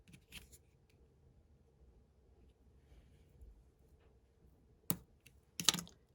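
Scissors trim a strip of washi tape, producing a few short, quiet snips near the start and two sharper cuts near the end, with near silence between them.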